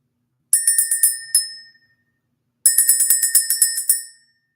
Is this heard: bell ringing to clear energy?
yes